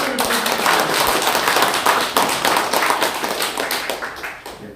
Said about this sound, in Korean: 더욱 힘내시라고 크게 한번 박수를 드립니다